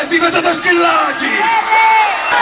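Loud crowd at the 1990 Marcialonga cross-country ski race, close and dense with many voices yelling, whooping and bellowing in a continuous roar of shouted cheers.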